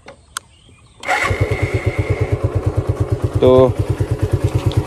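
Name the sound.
Suzuki Gixxer motorcycle engine running normally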